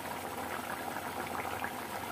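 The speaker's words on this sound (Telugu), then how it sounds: "చూడండి, పొయ్యి కట్టేసి ఇంకా ఎలా ఉడుకుతుందో" Egg and potato gravy curry bubbling steadily in a pot on a stove just switched off, a soft continuous simmering hiss close by with no voices.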